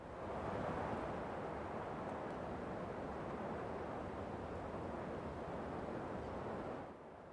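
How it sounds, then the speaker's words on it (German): Steady wind ambience in the farming game Landwirtschafts-Simulator 17 on Goldcrest Valley, a continuous broadband rushing that holds evenly for seconds before dropping slightly at the end. "Ich habe Windgeräusche gehört."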